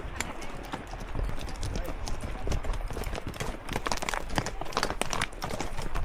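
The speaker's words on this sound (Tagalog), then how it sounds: "3 kilometers of riding a horse" Hooves clip-clop in a steady walking rhythm during a three-kilometre horse ride near Kaindy Lake, Kazakhstan, close and continuous, with faint background voices.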